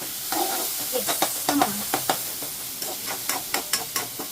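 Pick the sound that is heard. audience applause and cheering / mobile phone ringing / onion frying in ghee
onion frying in ghee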